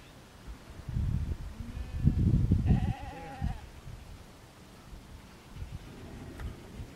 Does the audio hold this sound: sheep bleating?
yes